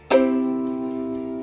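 A single strummed chord on a small nylon-string instrument rings out and slowly decays, bright and close, with no other sounds.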